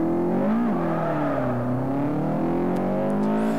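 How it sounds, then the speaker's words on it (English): Subaru 2-litre boxer engine in Forza 4, revving loud and close with a rising and falling throaty drone, a quick blip early on, then a sustained pull that wavers in pitch. "let me just keep quiet for a second so you can hear this engine"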